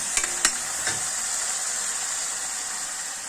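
Onion paste frying in a pan while ginger-garlic paste is about to go in, a steady hissing sizzle throughout with a couple of brief stirring knocks near the start.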